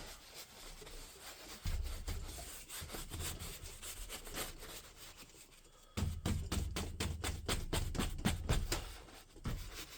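Paint is rubbed onto a surface for a mountain and northern lights painting, a steady back-and-forth scrubbing rhythm that is close and quiet and speeds into faster strokes partway through.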